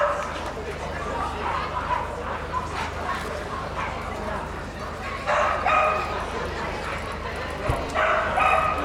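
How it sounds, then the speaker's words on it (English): An Australian cattle dog barks and yips at a dog show, several sharp bursts over steady crowd chatter and hall noise, with another dog whimpering nearby. "There is the winning Australian cattle dog"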